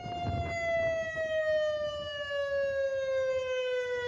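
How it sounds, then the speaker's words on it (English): A loud, steady nuclear alert civil defense siren in Cape Town wails on one long sustained tone that slowly sinks in pitch, with faint background rumble beneath. "This is the nuclear alert siren in Cape Town."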